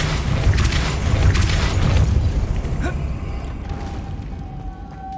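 A Depulso spell cast in Hogwarts Legacy gives a loud, rumbling boom with a burst at the start, then settles into a sustained low roar that slowly fades, with a sharp whoosh near the middle.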